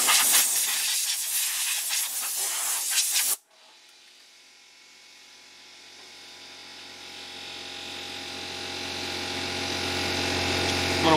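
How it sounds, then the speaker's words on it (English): Air compressor hissing in a workshop where shaving brushes are made: a loud, bright rush of escaping air that cuts off abruptly, followed by a lower steady hum from the compressor that slowly grows louder. "Wait for this air compressor."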